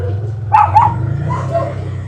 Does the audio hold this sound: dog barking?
yes